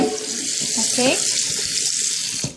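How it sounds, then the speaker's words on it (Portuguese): A frying pan being washed at a kitchen sink with running tap water and a sponge: steady close rushing water with scrubbing and clinking, and a brief spoken word partway through. "Agora eu só vou lavar aqui com água, né, com a esponja"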